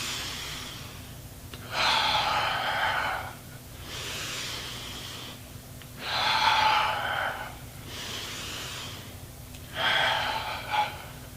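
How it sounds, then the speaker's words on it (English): Yoga breathing in through the nose and out through the mouth, slow audible breath cycles in a steady rhythm, each breath a loud, airy rush of air alternating with quieter inhales, close up. "I'm breathing in through the nose, out through the mouth"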